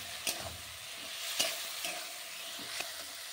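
Fried potatoes and cauliflower stirred into a cooking spice masala in a pan: a soft, low sizzle broken by four sharp spatula scrapes spaced about a second apart, close and quiet, with no voices.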